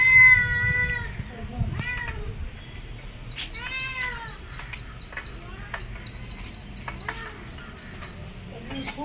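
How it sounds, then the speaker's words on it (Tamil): A cat meows repeatedly inside the Vasisvarar temple at Thiruppasur, sliding calls that come close and fairly loud, while people talk nearby and a faint steady tone hums behind them. "பூனை வந்து"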